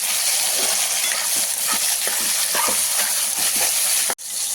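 Tomato, carrot and beans fried and mixed in a pan for vermicelli upma, a loud steady sizzle punctuated by rhythmic spatula scrapes, ending in a sudden knock and brief drop, no talking.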